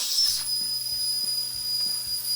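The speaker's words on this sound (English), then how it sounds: "We're now. releasing the steam." A pressure cooker holding short ribs vents steam, a sharp high hiss opening the stretch and settling into a steady thin whistle, with a soft rhythmic rattling pulse repeating underneath.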